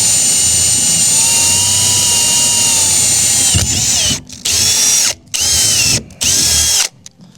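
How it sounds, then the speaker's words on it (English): A power tool drives a bolt through a steel mounting plate on an N70 Toyota Hilux, giving a long, steady, loud whine followed by three short bursts with brief pauses between them. "I'll put another bolt through it"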